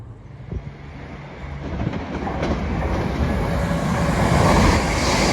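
A pair of West Midlands Railway Class 323 electric units runs through Barnt Green station, the rolling rumble and wheel clatter building steadily louder as the train draws near, with some wind noise and no voices.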